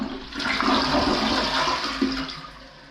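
A low-flow Niagara Stealth toilet flushes nearby with a short, steady rush of water that tapers off after a few seconds.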